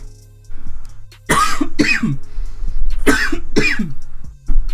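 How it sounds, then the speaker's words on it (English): Several harsh coughs from a hospital patient in short bursts, close and loud, with brief pauses between them and a low steady hum underneath. "Sorry if I'm still coughing."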